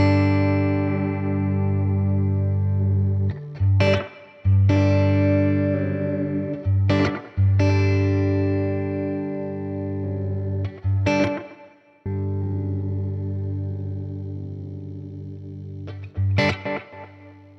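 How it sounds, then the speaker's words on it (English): Electric guitar through a delay pedal sustains distorted chords, with sharp pick attacks every few seconds while the repeats stretch out as the delay division slows. "you'll hear the delay coming in as I'm basically slowing down the delay."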